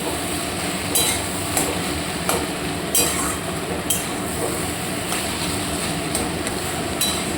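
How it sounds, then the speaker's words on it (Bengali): Bottle gourd and potatoes are mashed in a pan with prawns, a spoon knocking against the pan in a series of sharp, regular clinks over a soft cooking hiss, with no talk. "এই যে লাউ আলুগুলোকে একটু এভাবে মেরে দেবো, ভালো করে একটু একটু হালকা করে গলিয়ে নেবো"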